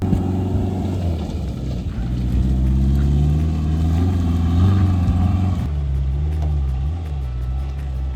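Land Rover Defender engine revving hard, a loud steady roar with rising and falling harmonics for several seconds before easing off, close to the vehicle outdoors, with no one talking.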